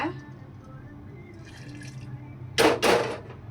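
Water poured into maida flour batter in a kitchen, two short splashy bursts of liquid near the end, close and fairly loud over a quiet background hum.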